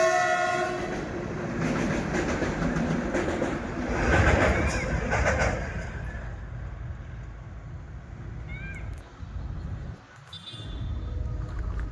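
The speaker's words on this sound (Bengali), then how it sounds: "ট্রেন আসছে তো।" A train rumbles past up close, its wagons clattering loudly for several seconds before a horn sounds twice near the end over the continuing rolling noise.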